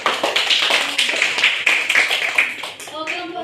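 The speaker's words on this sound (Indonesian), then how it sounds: "Berikan tepuk tangan untuk kelompok 3." A class claps for a student group after its presentation, a brisk burst of hand claps that fades toward the end as a voice starts up.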